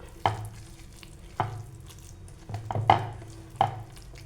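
Pakoda batter for sweet corn pakoda being mixed with water by hand, heard as a series of wet, squelching slaps at an uneven rhythm, close and moderately loud, with no voices.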